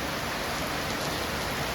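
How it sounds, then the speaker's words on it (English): Rain falling on a rainy day in a town, with wind blowing it easterly: a steady, dense hiss of drops on surfaces, loud and even throughout, without speech. "Yes, folks, it's a rainy day in Trin City. The rain is blowing easterly."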